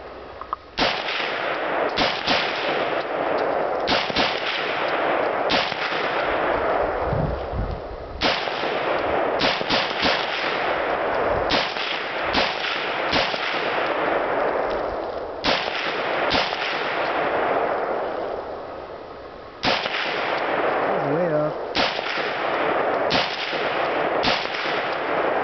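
Repeated gunshots fired outdoors at a pond, a dense run of loud, sharp reports in quick bursts with brief pauses, continuing steadily throughout with no talking.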